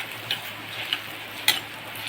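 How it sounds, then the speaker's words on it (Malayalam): Ginger stirred into hot oil in a pan while making a river prawn curry, with a steady close sizzle and a few soft scraping strokes of the spoon. "നമുക്ക് ഇളക്കി കൊടുക്കാം. പിന്നെ നമുക്ക് ഇഞ്ചി കൂടെ ചേർത്ത് കൊടുക്കാവേ."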